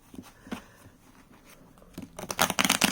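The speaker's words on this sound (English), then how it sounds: "and riffle shuffling." A deck of thick cardstock magick cards is riffle shuffled close by, with faint scattered taps at first, then a loud burst of rapid fluttering card clicks near the end, and no talking.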